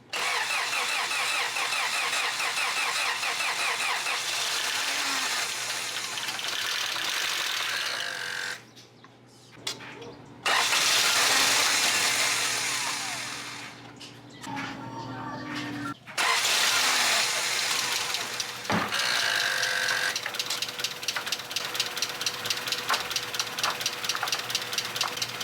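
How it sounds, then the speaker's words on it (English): An Integra LS engine with head gasket problems cranks and starts, then idles unevenly with a rough, sputtering rhythm, cutting out and restarting a couple of times before settling. "the car was idling very rough"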